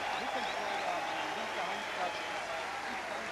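Crowd at an Olympic tennis match in 1992 erupting after a long five-set final point, a dense sustained wash of cheering and applause with voices throughout, steady and loud across the whole stretch.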